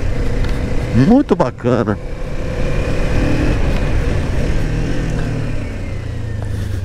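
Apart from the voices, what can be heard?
Kawasaki Ninja 500 motorcycle engine revving past 7000 rpm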